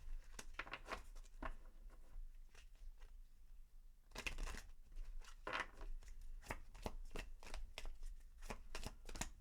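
A deck of Moonology oracle cards being shuffled close up: quiet, rapid papery riffles and slaps come in short bursts, with a denser flurry midway and brief pauses between, no talking.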